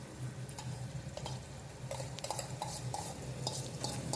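Ingredients for a bottle gourd and chana dal curry are stirred and mixed in a pot, a spoon making faint, close, rhythmic clinks and scrapes against the metal over a soft low background, with no talking.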